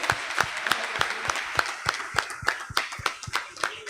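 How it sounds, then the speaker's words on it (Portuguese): A church congregation claps in steady rhythmic unison, sharp hand claps repeating about twice a second in a reverberant hall, with faint voices underneath. "Vamos aplaudir Jesus"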